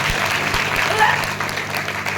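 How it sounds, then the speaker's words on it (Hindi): Loud, sustained clapping from a church congregation during a Christmas service in India as a pastor is welcomed forward, many hands patting densely and evenly over a faint background hum. "हम एक बार फिर जोरदार तालियां बजाएं।"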